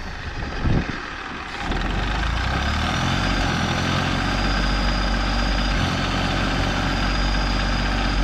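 A tractor stuck in a village field runs its engine in a loud, steady low idle drone. A brief knock comes near the start, and then the engine rumbles on without a break and without voices.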